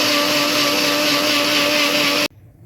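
A kitchen mixer grinder whirs loudly and steadily while grinding leftover grated fresh coconut for solkadhi, a constant high-pitched motor drone that cuts off abruptly near the end, leaving quiet room sound.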